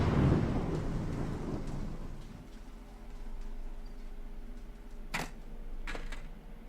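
A thunderstorm in the video game Dread Flats, with a deep rumble that fades over the first few seconds over steady rain-like noise, then two short, sharp crackles later on.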